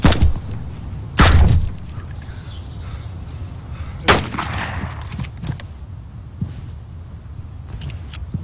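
Gunfire in an online shooter video game, a few loud, separate bursts of shots with quieter pops between them, no voices.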